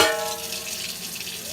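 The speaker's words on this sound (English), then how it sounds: "I'm going to add a little more water here." Water pours into a steamer pot of noodles and vegetables, a steady broadband rush filling the kitchen, ending with a brief metallic clank near the close.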